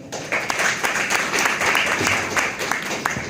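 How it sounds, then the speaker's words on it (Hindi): An audience at a memorial ghazal concert for Dushyant Kumar breaks into hearty applause for the stage musicians. The clapping is steady and dense, with a faint murmur of voices underneath. "एक बार जोरदार तालियां"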